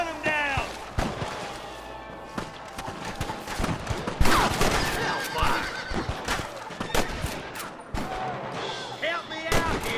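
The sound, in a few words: gunfire in the video game Red Dead Redemption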